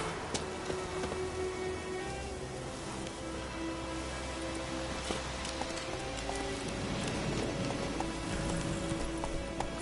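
Roach, a horse in The Witcher game, gallops with quick, rhythmic clip-clop hoofbeats at a moderate distance, over faint ambient rain and wind, with no talking.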